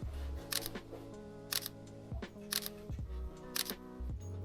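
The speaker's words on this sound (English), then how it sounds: "we have the camera running on time-lapse mode. As you can hear it shooting every second." A camera's shutter fires once per second in time-lapse mode while set up for self-portraits in a basement, giving evenly spaced crisp clicks close by over a low steady background hum, with no talking.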